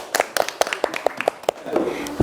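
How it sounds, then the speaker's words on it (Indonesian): A group of classmates claps in a classroom after a presentation, about a dozen brisk, evenly spaced hand claps close by, thinning into a looser patter at the end. "Tepuk tangan teman-teman."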